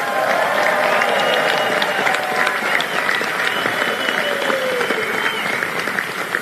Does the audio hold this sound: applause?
yes